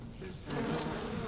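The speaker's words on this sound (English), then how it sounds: "Get out there, bees." A dense swarm of bees buzzes loudly in the video game BioShock, the insect drone swelling midway and holding steady without speech.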